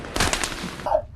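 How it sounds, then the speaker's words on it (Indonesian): A rapid burst of gunfire in the war film Warfare (2025), several sharp shots fired close together at a house, followed by a brief ringing tail. "tembakan musuh terus menghujani rumah pengintaian"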